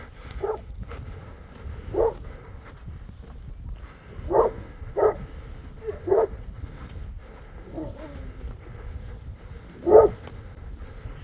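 A pack of seven or eight dogs barks at a distance in scattered single woofs and short volleys, separated by quiet pauses over a low background hum.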